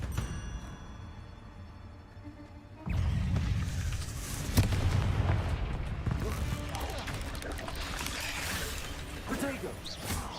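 Confringo, an explosive fire spell in a Hogwarts wizarding video game, bursts with a sudden loud blast around three seconds in and a sharp crack soon after, then a busy rumble of spell effects and game noise continues with voices talking over it.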